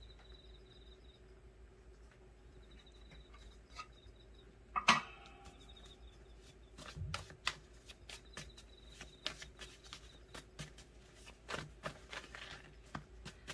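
Tarot cards are shuffled and drawn, giving soft papery flicks, snaps and riffling taps in irregular clusters, close but quiet, over a faint steady background hum.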